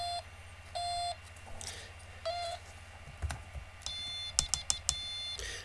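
Quiet Morse code practice key sounding short and long steady beeps in an irregular sending pattern, mixed with faint clicks and taps from the key, heard alone in a room.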